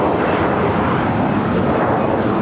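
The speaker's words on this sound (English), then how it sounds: "The planes are constant. It's like one after the other." Airplanes flying low over Boston, a continuous loud broadband engine roar that fills the whole stretch without a break, with no voices present.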